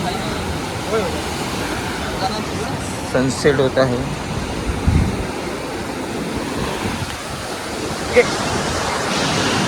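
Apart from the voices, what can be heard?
sea waves on the shore at sunset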